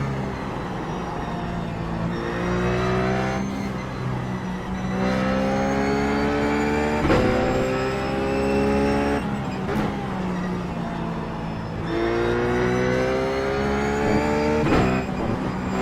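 A Ruf GT3 race car laps Spa in the iRacing sim, its engine note climbing loudly through the revs. The sound cuts sharply at each upshift every two to three seconds and keeps a continuous, close drone between the rises.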